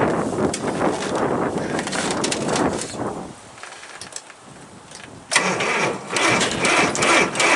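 A cold diesel engine at -30 cranks slowly with a loud, labored churning. It goes quieter for about two seconds, then the harsh cranking returns, close and without talk.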